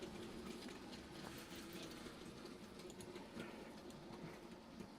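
Model trains run on a home layout, a faint continuous rumble with a fine rapid clicking texture, steady throughout and with no talking.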